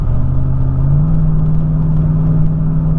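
Chevrolet truck with a low-power fault under part throttle, its engine a steady low drone that steps up in pitch near one second as it downshifts, then holds a strained, even rumble throughout.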